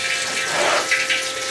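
Water runs steadily from a tap, filling a tank fed by a solar hot-water setup with an on-demand heater, a continuous broad hiss and gurgle heard close up without any voices.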